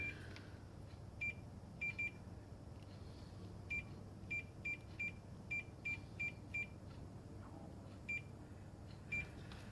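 A multimeter set for continuity beeps in short, irregular bursts while testing corroded wiring on a 1956 hairdryer, the faint chirps repeating over a low steady background hum.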